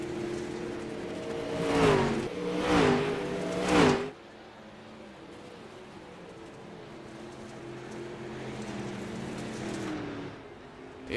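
Dirt kart race car at a Fosters Custom Rods event, its engine revving hard in a few loud rising bursts on the track, then fading into a steady, distant drone as the kart moves away.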